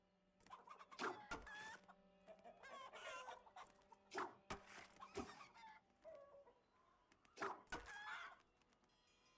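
Chicken clucking and squawking in the video game Pantheon: Rise of the Fallen, a series of loud, uneven bursts of clucks and cackles spread across several seconds, heard alone.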